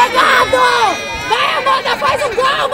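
Fans at a women's society football tournament shout and cheer close by in bursts, several voices overlapping in a lively crowd.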